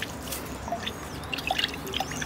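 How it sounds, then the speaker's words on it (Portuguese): Homemade liquid fertilizer of eggshell, coffee and carrot peel is stirred and poured into a plant pot, giving soft drips and light trickling splashes, faint and close, with no talk. "Deixa eu mexer um pouquinho e despejar."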